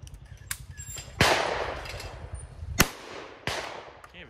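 Shotgun blasts at a sporting clays range from a VEPR 12 or Saiga 12 semi-auto: several loud, close booms spaced about a second apart, each trailing off into a rumbling echo outdoors.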